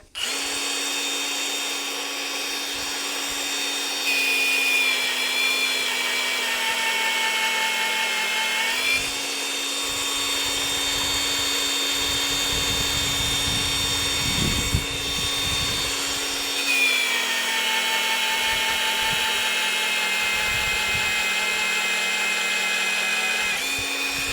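Cordless magnetic drill boring through a steel leg with cutting oil, a loud, close, steady high-pitched whine that dips briefly twice as the load changes, with scraping and crunching chips underneath and no talking.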